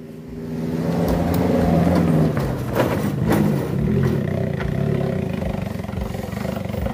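A motorcycle engine roars and revs up, rising and falling in pitch, loud and close, with no speech.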